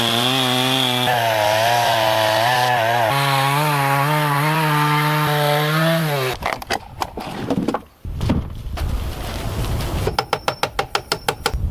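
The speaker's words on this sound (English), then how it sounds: "uses a chainsaw to trim the wood to the correct size" A chainsaw trims a log to size while building a log cabin in the wilderness, first a loud steady whine and then choppy bursts as the blade cuts through the wood, with a voice talking over it.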